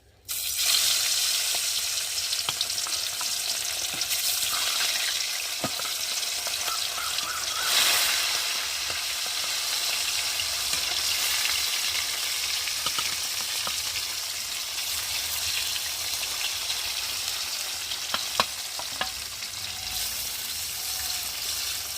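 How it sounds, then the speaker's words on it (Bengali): Rui fish pieces rubbed with salt and turmeric fry in hot oil in a kadai, giving a steady, close sizzle throughout with brief louder spatters and no talk. "এই যে নুন হলুদ মেখে রাখা মাছগুলো একে একে দিয়ে ভেজে নেব।"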